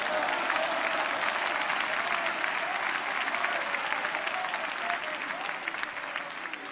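A church congregation claps hands together in dense, steady applause that holds at an even level from start to finish, with no voices standing out.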